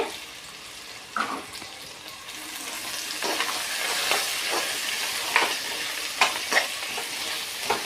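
Potato pieces and carrot frying in a pan for vegetable biryani, a steady sizzle with occasional louder scrapes and clanks of a ladle stirring, close and continuous with no talk.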